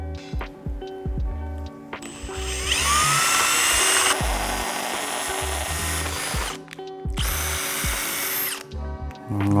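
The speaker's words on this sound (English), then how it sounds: "we're gonna go ahead and drill into it" Power drill boring holes into a Vicrez LV4 front splitter, two loud sustained high-pitched whining bursts with a lower motor hum and some clatter between them, close by.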